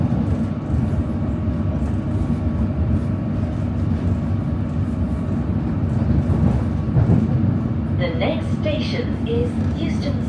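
A London Underground Metropolitan line train runs steadily on the Watford, Chesham and Amersham route, with a constant low rumble filling the whole stretch, and a brief burst of higher rattling or squeal near the end.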